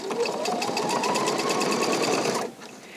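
A Pfaff sewing machine sews decorative ribbon stitches in a fast, even, close mechanical whir with a regular needle rhythm, stopping abruptly near the end.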